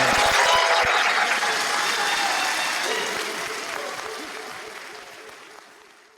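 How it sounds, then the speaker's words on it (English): A congregation applauds for young people at a rite of passage, a loud burst of clapping with a few sharp individual claps that slowly fades and thins over several seconds. "Let us give these young people a round of applause for all that they have done"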